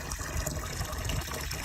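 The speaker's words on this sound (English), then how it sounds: "So let's start the water and see what happens." Water gushes steadily into an old hidden drain lined with bricks and mud, a loud continuous rushing flow heard up close throughout.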